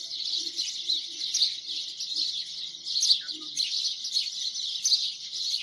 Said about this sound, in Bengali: ভোরবেলা পাখির ডাক